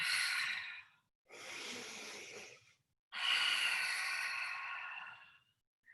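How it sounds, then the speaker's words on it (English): Three long breaths, in through the nose and out through an open mouth, close and airy, separated by short pauses, with a faint click at the end. "inhale through the nose, exhale, open mouth"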